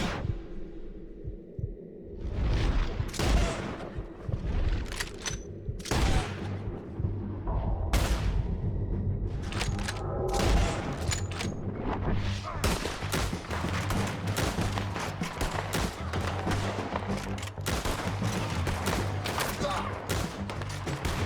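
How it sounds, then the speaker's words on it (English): Gunfire in Red Dead Redemption 2: scattered loud shots at first, then dense overlapping volleys that keep up almost nonstop, near and sharp, with shooting on several sides. "Let's just start shooting."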